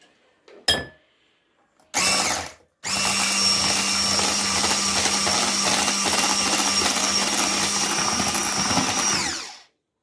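An electric hand mixer beats eggs and sugar into a white foam for an orange cake, whirring loudly and steadily for several seconds after a couple of short starting bursts, then cutting off.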